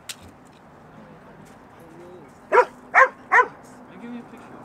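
Dog whimpering softly, then three sharp, loud barks in quick succession near a restaurant, with faint whines between and low background noise; people talk around it.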